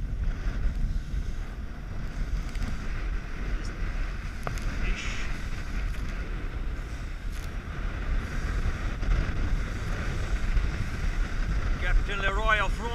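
Fishing boat pounds through choppy waves under steady, loud wind and engine rumble, with water slapping against the hull and a faint bird-like chirping near the end.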